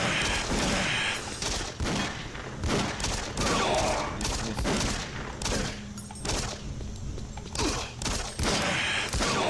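Sustained gunfire from a possessed computer enemy in Doom 3, a dense barrage of shots and thuds playing continuously and loudly throughout with mechanical game sounds mixed in.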